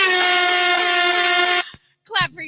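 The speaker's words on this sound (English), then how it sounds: "Or, honk your horn. Beep, beep." A car horn gives one long, steady blast, falls silent briefly, then sounds a short second honk, loud and close.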